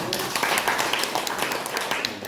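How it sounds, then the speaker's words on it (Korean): Audience applause at an indoor community talk on carbon neutrality in Pocheon, a dense, steady wash of many hands clapping close by for a couple of seconds, with no voices over it. "큰 박수 부탁드리겠습니다."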